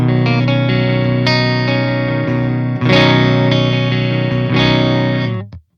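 A clean electric guitar tone from a Quad Cortex CL1 Bright capture rings through three sustained strummed chords, each left to ring full and bright before the sound cuts off at the end.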